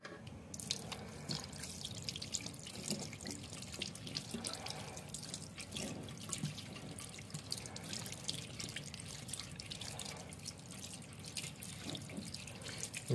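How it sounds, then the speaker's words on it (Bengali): Aloe vera leaves are washed under running tap water, a steady splashing and trickling into a sink with irregular drips and patters, close and continuous throughout. "এগুলোকে সুন্দর করে ধুয়ে পরিষ্কার করতে হবে।"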